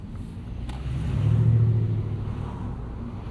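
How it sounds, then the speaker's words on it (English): Steady low engine drone with a soft whooshing turbo hum that swells in the middle and eases off, heard from inside a moving 2025 Mini Cooper S Convertible with the top down. "really all you hear is turbo noise"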